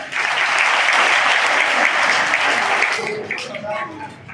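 An audience applauds loudly at a Shri Swami Samarth Kendra gathering, a dense burst of clapping that holds steady, then thins and fades near the end as a voice begins over it.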